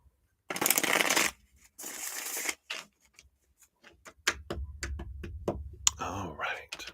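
Tarot cards being shuffled in a few quick riffling bursts, followed by softer taps and shuffles with faint low murmuring in the background.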